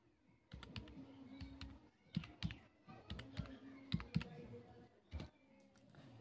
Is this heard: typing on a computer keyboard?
yes